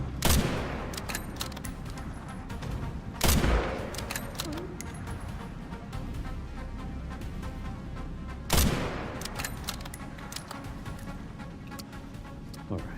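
Rifle shots in a Resident Evil game, a few sharp loud cracks spaced seconds apart over a constant rumbling game background, with no speech over them.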